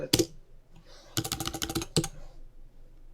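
Keys clack on a computer keyboard, a single tap, then a quick burst of about ten rapid keystrokes and one final press, close and crisp in an otherwise quiet room.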